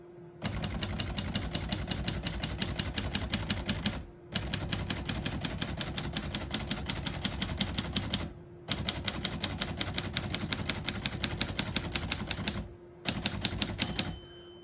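Rapid, steady typing on a 1941 Royal Quiet De Luxe portable typewriter, close up, in three long bursts separated by brief pauses, each key strike crisp and clacky.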